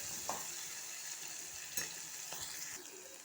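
Eggplant and tomato pieces fry in hot oil for a curry, a steady close sizzle with a few soft stirring scrapes, no voices.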